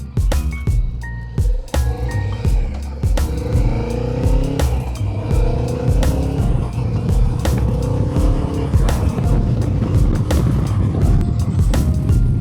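A Kawasaki Vulcan 650 motorcycle pulls away and cruises, its engine revving up through rising pitch sweeps with loud, close wind rush and rumble, and sharp clicks and knocks early on.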